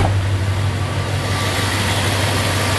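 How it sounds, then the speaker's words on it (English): A V8 engine idles smoothly and steadily just after an oil change, a close, even low rumble with no revving and no talk. "listen to that engine purr"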